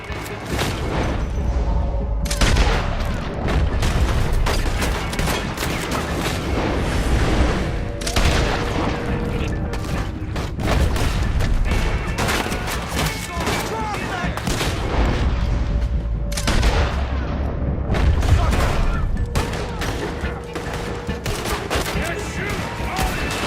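Gunfire crackles through a Saint Denis bank shootout in a Red Dead Redemption 2 cutscene, loud rapid volleys and booming shots continuing without letup, with shouted voices breaking in between bursts.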